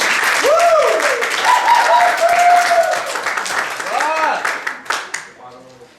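Audience applause greets a speaker being welcomed at an evening event, steady dense clapping filling the room while a voice talks over it, then the clapping fades out near the end.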